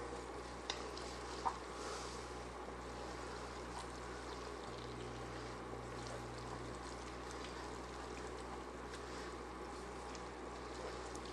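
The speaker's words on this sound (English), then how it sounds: "let that just kind of, that heavy garlic taste mellow out a little bit in the oil and the heat" Garlic cooks in hot oil in a pan, giving a steady, quiet sizzle with occasional soft scrapes of stirring throughout, and no talking.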